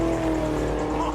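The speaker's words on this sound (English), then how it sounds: "The sound of that engine just takes you straight back" Peter Brock's Holden A9X Torana racing engine at Bathurst, driven by Dick Johnson, drones loud and steady with a dense low rumble and a sustained tone, close and continuous with no talk over it.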